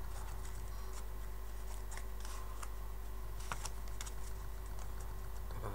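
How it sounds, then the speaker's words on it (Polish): A deck of playing cards is shuffled by hand during a card trick, producing soft rapid riffling and scattered crisp flicks over a faint steady background hum, with no voices. "Dobrze, przetasujemy talię."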